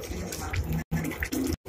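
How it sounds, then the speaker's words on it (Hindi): About a cup of water poured into a pot of egg curry masala, a short splashing pour broken by two brief silences. "पानी हमने 1 कप इसमें ऐड किया"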